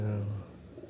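A brief, low coo from a pigeon or dove, close by, with a voice murmuring faintly beneath it.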